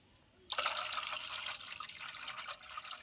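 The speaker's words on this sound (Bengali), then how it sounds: "এবার ওর মধ্যে পরিমাণ মতন জল দিয়ে দিচ্ছি।" Water is poured into mashed raw mango in a bowl, a close, splashing trickle that starts suddenly and continues for a few seconds while slowly tapering off.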